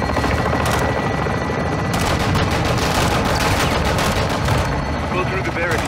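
Sustained gunfire fills a Call of Duty Modern Warfare II battle, with dense, loud bursts of automatic weapons and heavy rattling shots layered over a constant roar, with voices speaking over the combat.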